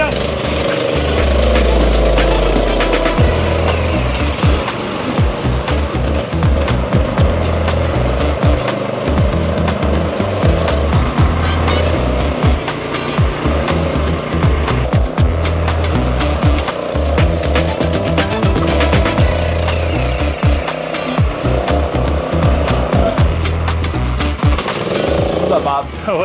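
A go-kart with a small Kawasaki engine drives through a factory, its buzzing engine revving loudly and continuously up close with rattles and knocks, and voices speaking over it in places.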